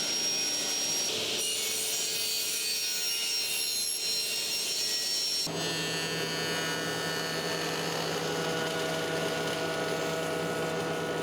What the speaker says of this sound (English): I scraped off the excess, sanded the surface, and cut it to size